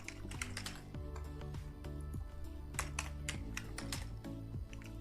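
Quiet, steady typing on a computer keyboard, a continuous patter of light key clicks with a low background hum and no talk.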